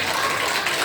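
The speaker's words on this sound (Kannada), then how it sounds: "ಮಕ್ಕಳೆಲ್ಲ ಚಪ್ಪಾಳೆ ಮೂಲಕ ಸ್ವಾಗತಿಸಬೇಕು." Children at a school learning festival clap together to welcome guests onto the stage, a dense, steady burst of applause lasting under a second.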